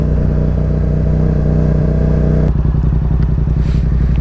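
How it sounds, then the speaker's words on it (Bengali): A motorcycle engine drones loudly and steadily nearby on a wet, deserted road at night, its pitch shifting midway as it moves past. "মাত্র মনে হয় একটা বাইক দেখলাম"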